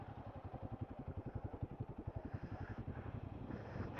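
A motorcycle idles close by during snowfall at high altitude, its engine thumping in a steady, even rhythm that holds throughout, with no talk.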